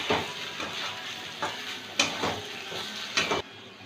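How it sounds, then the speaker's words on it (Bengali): Ginger and cumin powder fry in a pan with a steady sizzle, broken by several sharp scrapes and clinks as a spatula stirs against the metal; close and fairly loud, no voices. "একটু ভেজে নেব।"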